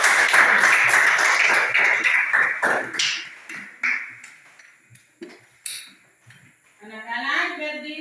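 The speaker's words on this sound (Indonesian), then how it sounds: "Tepuk tangan dulu." A group of children claps their hands: a dense burst of clapping at first, then thinning into scattered sharp claps that fade out, with a voice speaking or singing briefly at the end.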